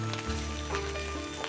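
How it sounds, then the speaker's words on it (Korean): Pork sundae sausage fries in oil on a hot iron griddle, giving a soft, steady crackling sizzle over a low hum, faint and close, with no talking. "작년 이맘때 만들어둔 순대도 기름 자글자글한 철판에 튀기듯 구워주는데요."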